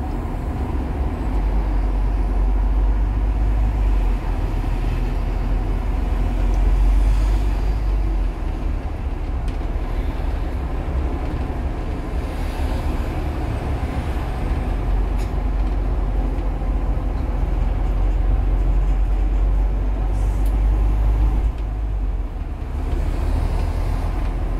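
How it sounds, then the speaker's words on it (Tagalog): Steady road traffic on a residential street in North London, a continuous low rumble of passing cars and buses with no distinct single vehicle standing out. "Ayan, medyo traffic na dito sa banda."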